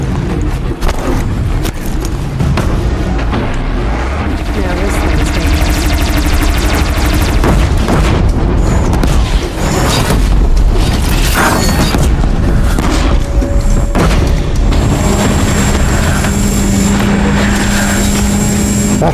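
Disc launcher shots and blasts in Horizon Zero Dawn, loud, dense rumbling booms that run through the whole stretch with no pauses, layered over constant game noise and engine-like drone.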